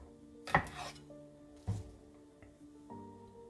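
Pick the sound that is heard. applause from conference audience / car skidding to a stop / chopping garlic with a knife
chopping garlic with a knife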